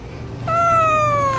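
A domestic cat meows close up, one drawn-out, falling meow lasting about a second, loud and clear over a quiet room with no talking.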